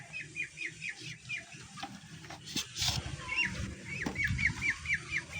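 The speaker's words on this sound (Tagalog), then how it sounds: "Ito nga pala yung pato ko inuli ko." A pet duck held for sale gives repeated short, faint chirping calls in quick bursts over a low rustle and handling noise.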